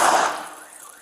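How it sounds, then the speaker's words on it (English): A house alarm blares close by, a loud high electronic tone that fades over about a second, with no talking over it. "Your alarm's going off!"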